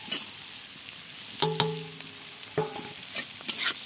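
Vegetables, onion and chili frying together for chowmein, a steady close sizzle with a few clanking taps and scrapes of a utensil against the pan, and no voices.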